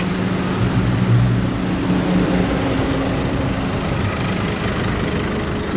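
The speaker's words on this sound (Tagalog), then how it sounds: "Laki ng makina." A large engine runs with a steady, loud, low droning hum that stays constant throughout, with no voices.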